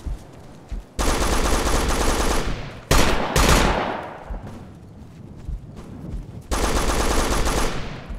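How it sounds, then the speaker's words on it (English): Heavy suppressive machine gun fire in Operation Flashpoint: Dragon Rising, loud sustained bursts of about two seconds each, separated by a few sharper single shots and quieter gaps. "Suppressive fire. Suppressive fire. Suppressive fire."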